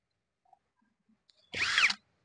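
Electric power tool whirring briefly while tightening nuts during a cooler motor replacement, a single short loud burst after near silence with a few faint clicks before it.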